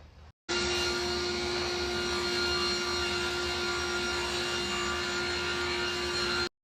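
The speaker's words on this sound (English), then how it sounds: "So right now we are cutting down plywood" A power saw cuts plywood sheets for DIY wooden nightstands, starting abruptly after a brief quiet moment and running as one loud, continuous, steady whine with a constant tone before cutting off at the end.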